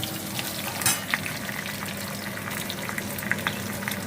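Slit green chillies fry in hot sesame oil in a pan with crushed ginger. A close, steady sizzle carries on throughout, with a few sharper crackles.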